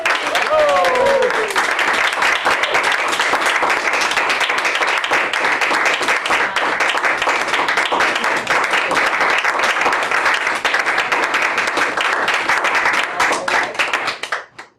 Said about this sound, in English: let's give him a warm round of applause for achieving competent communicator